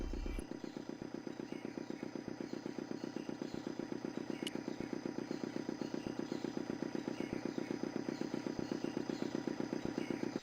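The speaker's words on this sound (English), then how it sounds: "Мотор что-то работает, всем пофиг." An engine with a spinning flywheel runs in the remastered adventure game Broken Sword 2: The Smoking Mirror, chugging in a fast, steady mechanical rhythm with a faint metallic click partway through and no voices.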